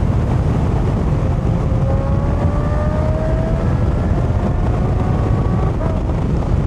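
Riding a 2025 Yamaha MT-07 motorcycle with the dB killer fitted: a steady, muffled engine drone rises in pitch under heavy, constant wind buffeting that largely swamps it.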